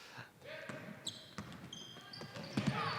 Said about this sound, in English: Bounding ball down the floor into a pack, kept alive by Graham.